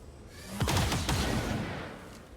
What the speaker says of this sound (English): He's going to get to return fire.